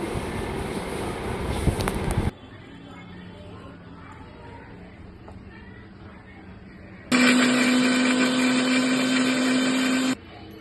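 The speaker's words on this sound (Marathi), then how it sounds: "आता हे वहिनी मिक्सरमध्ये लावून घेते." A kitchen mixer grinder whirs loudly for about three seconds, grinding a spice paste of salt, garam masala and coriander powder for chicken biryani, with a steady motor hum; someone talks at the start.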